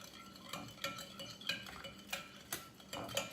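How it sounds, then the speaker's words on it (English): A spoon stirring elderberry jello liquid in a dish, with repeated rhythmic clinks and swishes about every half second, close and clear with no voices. "just give it a good stir in all directions for maybe like a minute or 2"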